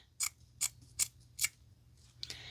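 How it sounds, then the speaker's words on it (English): Scissors snip through the back layer of fabric for a soft-toy craft kit: five crisp, close cuts at an even pace, alone with no voices. "you slide the scissors right up under the back of the fabric and you cut just the back of the fabric."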